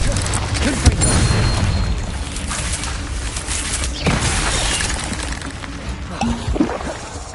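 Confringo blasting spells bursting in the video game Hogwarts Legacy, a run of heavy booming blasts with crashing debris over steady game ambience, loud and close throughout.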